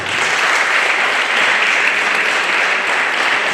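An audience at a school spelling bee competition gives sustained applause, a thick, loud, unbroken wash of many hands clapping, with no talk over it.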